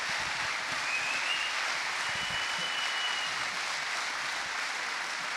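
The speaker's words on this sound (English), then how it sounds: "And you can hear the applause" Steady applause from a squash crowd greeting the winner of the 2021 British Open final, a dense even wash of clapping that holds at a constant level the whole time.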